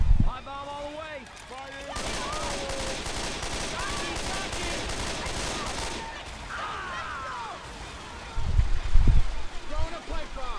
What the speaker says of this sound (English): Throwing a pipe bomb. Pipe bomb all the way.